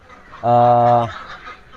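A single loud, tonal honk from a duck on a farm, lasting under a second, close to the microphone against quiet background.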